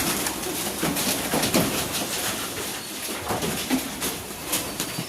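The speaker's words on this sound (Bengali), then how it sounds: "খুব আনন্দ লাগে পায়রা দেখতে। খুব সুন্দর, দেখো কতগুলো পায়রা।" Pigeons gathered to peck at rice in a village yard, soft repeated cooing at moderate distance over a continuous outdoor background hiss.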